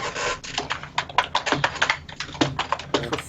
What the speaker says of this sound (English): you're typing so bloody loud